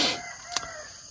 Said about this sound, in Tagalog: Nagising rin ako sa mga nagtutunog ang mga manok.